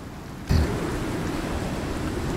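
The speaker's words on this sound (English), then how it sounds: "It is noisy as all get out with this storm." A storm in the Icarus video game roars with dense, loud rain, and a sudden thunder crack lands about half a second in before steady heavy downpour carries on without talk.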